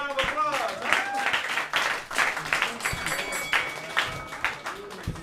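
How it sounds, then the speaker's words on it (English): Audience applause and clapping at a live roast battle comedy show, a steady crackle of hands running several seconds with crowd voices and talk mixed in over it. "Give him a round of applause"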